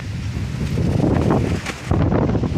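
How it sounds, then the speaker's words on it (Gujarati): Steady wind buffets the microphone with a low rumbling roar, gusting slightly louder toward the end. "આમ હજી થોડું થોડું પવન છે"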